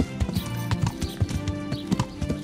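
Rhythmic horse hooves in Kingdom Come: Deliverance clip-clopping at a steady walking pace, fairly close and clear, with no talking.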